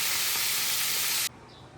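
Loud hissing sizzle of fish frying in oil for about a second, then cutting off abruptly to a quiet background.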